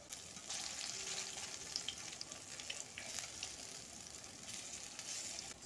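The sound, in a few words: fish and lentil fritters frying in oil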